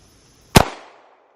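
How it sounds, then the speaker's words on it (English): A single sharp gunshot with a hollow point round fired into a concealable body armor vest worn by a mannequin, one loud close crack with a short decaying tail, no talking. "But first shot is a knotless ammunition hollow point."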